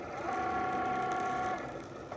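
A Cricut cutting machine whirs steadily as it cuts material, with a thin motor whine that holds for about a second before easing off.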